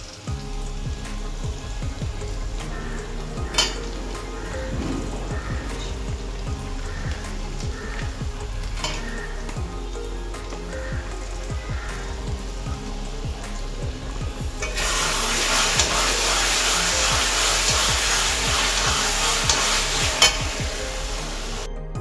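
Spice paste with Kashmiri chilli and red chilli powder sizzles and fries in a pan for chicken curry, with steady scraping stir strokes throughout and a louder, denser hiss of frying in the final stretch, no voices.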